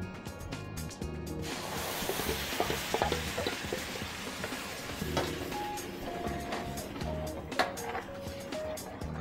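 A gravy of raw onions and raw tomatoes cooking in a pan for pithod masala, a steady soft sizzle and bubbling with faint clinks, fairly quiet throughout.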